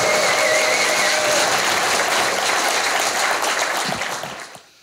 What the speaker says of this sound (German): mit einem kräftigen, donnernden 7-Punkte-Applaus den ersten Slammer begrüßen